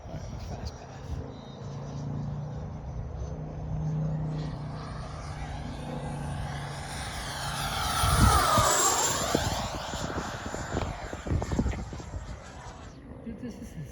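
An RC model airplane with a propeller engine makes a fast pass overhead, its buzzing whine rising, sweeping by with a Doppler shift and then fading, while people talk nearby.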